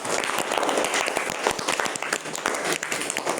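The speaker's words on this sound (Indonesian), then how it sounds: "Tepuk tangan buat Mas Atta." A classroom group applauds, dense continuous clapping from many hands at close range that stays fairly even and fills the whole stretch without any talk.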